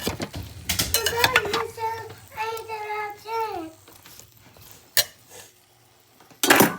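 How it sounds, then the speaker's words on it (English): A spoon stirs sausage and potatoes in a crock pot, giving a few close metallic clinks and scrapes, with a voice and other speech in the background. "I had the sausage and potatoes in the crock pot for a couple hours. I'm just gonna give them a stir."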